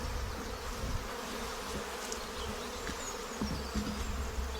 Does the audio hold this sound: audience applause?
no